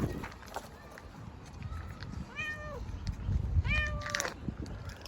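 Two clear meows from a sick cat ring out a second apart, close by indoors, over soft background rustling and a faint murmur of voices.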